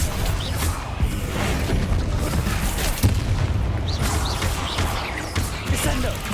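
Fire spell explosions in Hogwarts Legacy during combat: rumbling booms and crashes over a dense game soundscape, with several impacts in quick succession and some muffled voice sounds.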